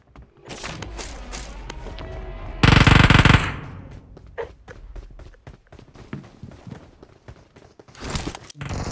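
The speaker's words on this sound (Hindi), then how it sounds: "मैं डीपी का प्री फायर मारता हूँ कि बंदा मेरे काबू में आ जाए" DP machine gun fired in PUBG Mobile: loud sharp bursts of automatic fire, one very intense sustained burst in the middle, with scattered shots and thuds around it and more fire near the end.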